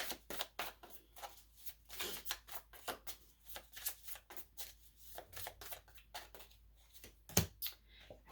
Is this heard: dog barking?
no